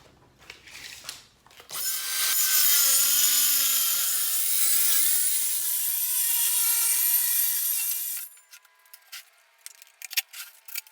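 A power saw cuts wood for chicken nesting boxes, starting after a short pause of handling noises, running as a loud sustained whine for about six seconds, then stopping, followed by scattered clattering of boards and tools.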